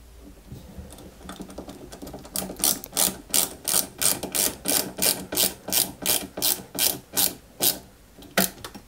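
A screw is driven by hand into a plastic part of a 1/8-scale Citroën 2CV AZLP model, giving a steady run of about fifteen evenly spaced ratcheting clicks, close and fairly loud, with no voices.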